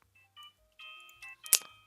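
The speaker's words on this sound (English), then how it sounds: "Oh, my phone's ringing." A flip phone rings with a short electronic melody of beeping tones in a close, clean sequence, ending in a brief sharper burst.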